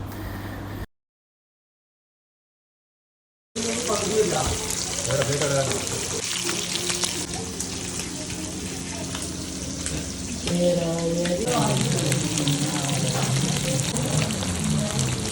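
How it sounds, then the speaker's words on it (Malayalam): Fish pieces fry in oil in two frying pans, a continuous close sizzle that starts after a brief silence and runs steadily while someone talks over it. "നമ്മൾ 2 ഫ്രൈ പാനിൽ എണ്ണ ഒഴിച്ചിട്ട് നമ്മൾ മീനെല്ലാം പൊരിച്ചെടുക്കുകയാണ് ഇവിടെ"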